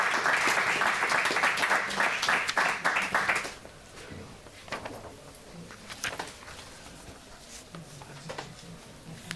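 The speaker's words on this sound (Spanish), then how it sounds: "Lo recibimos con un aplauso." Audience applause at a panel session on a museum plan for the Sigena monastery, a dense burst of clapping for about three and a half seconds that drops off abruptly into scattered claps and quiet room murmur.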